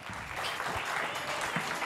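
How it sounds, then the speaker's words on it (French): Brief, dense burst of studio audience applause on a French TV show, steady and fairly close throughout with no voices over it. "Applaudissez pour Titi, s'il vous plaît."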